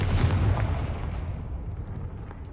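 A Confringo fire spell blast in the Hogwarts Legacy video game lands as one loud, deep explosion that rumbles and slowly fades over a couple of seconds.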